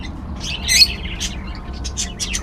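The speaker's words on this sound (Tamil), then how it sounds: "விதவிதமான கிளிகள்." Parrots call at the Ras Al Khaimah public zoo in the UAE, giving a run of sharp chirps and squawks, one louder burst near the start and then quicker calls, close and clear with no talk.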